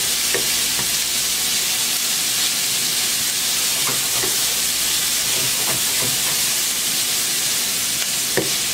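Onions and garlic sweating in a pan over low heat for a tater tot casserole, a steady close sizzle and hiss with occasional small pops and scrapes, no talking.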